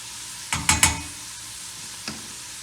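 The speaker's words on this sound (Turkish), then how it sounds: "Kavrulan soğanlarımı bir adet de yeşil biber ekliyorum. Onlarla birlikte karıştıracağım bir sürede." Onions and a green pepper fry in a pan, a low sizzle punctuated by three quick stirring scrapes in a row and one fainter scrape a little later.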